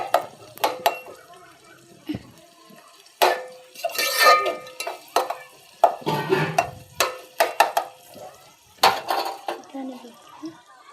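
A metal spoon stirring chicken curry in a pot, with clinks and scrapes against the pot in irregular bursts and a wet, thick mixing sound, while a person talks intermittently.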